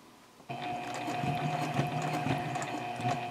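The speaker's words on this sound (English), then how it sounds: "what I want to do is sew until I get to that corner right there" A sewing machine runs steadily while stitching a project bag toward its mitered corner, starting abruptly after a short quiet moment and then whirring continuously with a close, even mechanical hum and fine ticking.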